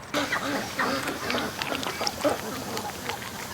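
Duck recovering from botulism quacking in a pen, several short raspy quacks scattered across the moment over faint background noise.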